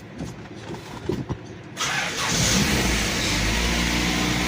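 A 1981 Plymouth Reliant fresh from a tune-up with new plugs, cap, rotor and wires cranks briefly with a few clunks, then fires and settles into a steady, loud close-up engine run.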